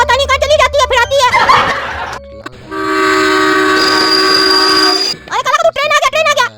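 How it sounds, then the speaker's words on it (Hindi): A train pulls into a railway station with a long, loud horn blast, heard close and sustained for a couple of seconds between stretches of excited talk. "अरे काला का तू ट्रेन आ गया"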